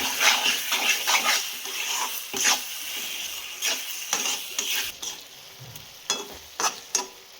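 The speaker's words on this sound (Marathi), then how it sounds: "5 मिनटं एक असं हाय फ्लेमवरती पुढे चांगलं असं परतून घ्यायचं पाहिजे." Goat liver stir-fries in a pan on high flame, with a constant sizzle broken by scraping spatula strokes and sharp clacks of stirring throughout.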